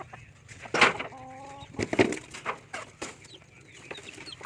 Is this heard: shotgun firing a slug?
no